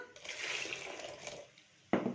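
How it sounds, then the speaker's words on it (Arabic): Hot water pours into a bowl of yeast mixture while making Upper Egyptian masbouba bread batter, a steady close splashing stream that stops, followed by a sharp clink. "نجيب حبه ميه سخنه كده"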